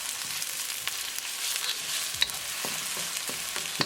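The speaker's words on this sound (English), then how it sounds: "Now add onion." Onions stirred and frying in a pan after garlic, a constant bright sizzle with scattered scraping taps of the utensil, close and alone without talk.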